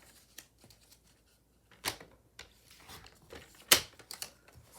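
Scissors trimming excess paper for a Valentine heart envelope closure: a few sharp snipping and rustling bursts, close and fairly quiet, spaced across a near-silent background.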